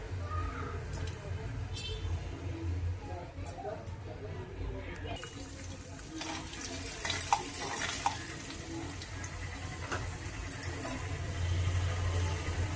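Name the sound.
urad dal and garlic frying in hot oil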